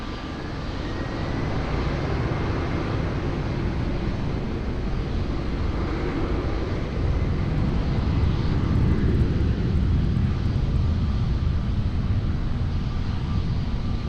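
Airliner taking off from runway 20 at Lisbon Airport: a sustained, broad engine roar that builds slightly and holds steady for about fourteen seconds, with no voices.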